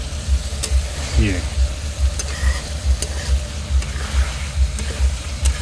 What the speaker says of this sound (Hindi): ये देखिए सिर्फ मसाले को ऐसे ही भूजते रहेंगे